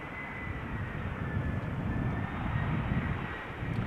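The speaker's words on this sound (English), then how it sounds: "Air France flight 1444 arriving from Paris, Charles de Gaulle, A320" An Air France A320 airliner arriving from Paris at Amsterdam Schiphol, a faint, distant rumbling engine roar with a thin whine on top that swells slightly and holds steady.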